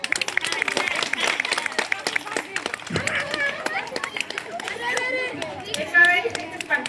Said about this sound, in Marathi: ए टाळ्या वाजा